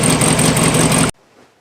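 An old vehicle engine idles steadily while warming up, loud and close, then cuts off abruptly, leaving near silence.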